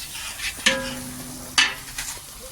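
A spiced mixture is stirred and sautéed in a pan. It gives a steady low sizzle, and two sharp scraping strokes of a spatula stand out, followed by lighter clinks. No one speaks.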